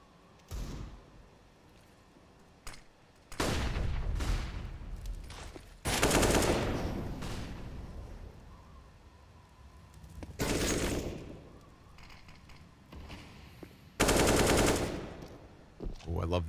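Automatic gunfire in a professional CS:GO match: several sharp, loud bursts of rapid shots separated by quieter stretches, with the last bursts arriving in quick succession and commentary faint underneath.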